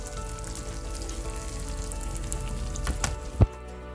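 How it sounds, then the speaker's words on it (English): Steady sizzling of chicken and spices being sautéed in a frying pan, close and continuous, with a brief clatter near the end. "we're going to gently saute this for a few minutes"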